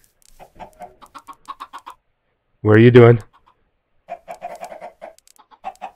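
Minecraft chickens clucking in short, sparse bursts before and after a voice mimics a single loud cluck; a brief spoken question is also heard.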